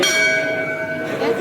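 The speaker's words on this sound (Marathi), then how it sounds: "शिवाजीला घंटा वाजवून इशारा करायचा असतो." A temple bell rings at the Shiva temple of Kankeshwar near Alibag, a single struck tone with sustained bright overtones that hold and slowly fade, loud and close.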